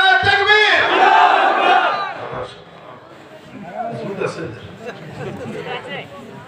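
A large crowd at a religious sermon gathering roars a takbir response in unison, a loud massed chant that swells and then fades into scattered voices and murmuring.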